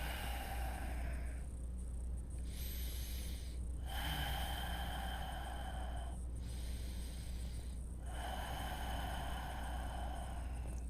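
Slow deep breaths during a strong vinyasa yoga flow, long airy inhales and exhales cycling about every two seconds over a steady low hum, close and fairly quiet, with no talking.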